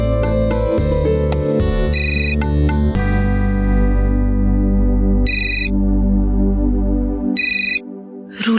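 An electronic ringtone signals an incoming phone call in a domestic TV drama scene, playing as a loud repeating melodic chime with bursts of high bright tones, continuing for several seconds before cutting off.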